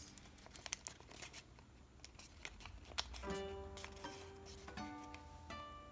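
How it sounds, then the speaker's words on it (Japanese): Sheets of origami paper are folded and creased into a celebration crane, giving quiet crinkling and soft scraping with a few sharp creasing ticks. Faint music-like tones sit in the background. "先ほど軽く折った折り筋で上へ折ります"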